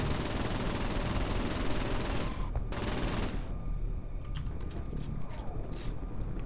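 Sustained automatic gunfire from the Saints Row 4 video game, a dense loud barrage that breaks off briefly partway through, then resumes as scattered bursts with mechanical clicks.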